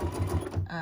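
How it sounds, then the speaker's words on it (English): An embroidery sewing machine stitching out a flower design in the hoop, a close, rhythmic mechanical chugging that lasts under a second. "So we'll stitch along for just a little bit here so you can see it get going."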